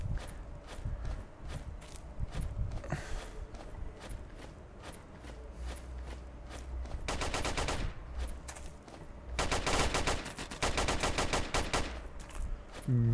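Distant firefight in the VR battle royale Virtual Battlegrounds: steady single shots tick along throughout, punctuated by two rapid automatic bursts, all sounding faraway and thin, with no talking.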